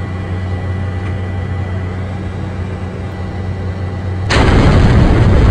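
A plane in a flight simulator video game crashes: a steady engine drone with a low hum runs for several seconds, then a sudden loud burst of harsh crashing noise takes over and keeps roaring until the end.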